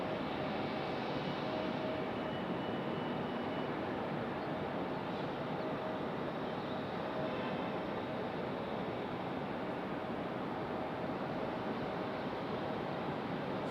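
A United airliner in Star Alliance livery at Raleigh-Durham International Airport gives off a long, steady, distant jet roar, broad and unbroken, with some wind noise and no talk.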